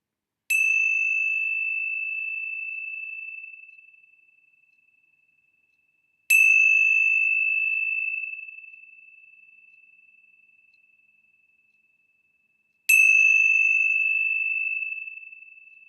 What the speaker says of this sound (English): let's begin with the bells of hope